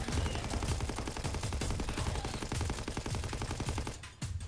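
Dense, continuous automatic gunfire from a WWII zombie shooter game, rapid rhythmic shots hammering nonstop at close range for several seconds before a brief break and one final burst.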